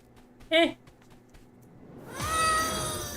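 A single short, clear cat meow from the game Escape from Duckov, followed by a voice speaking.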